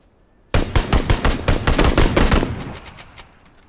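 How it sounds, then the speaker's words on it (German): A rapid burst of video game gunfire hitting nearby, loud and close, with sharp cracks in quick succession for about two seconds before tapering off. "Ihr habt die Schüsse bestimmt einschlagen gehört."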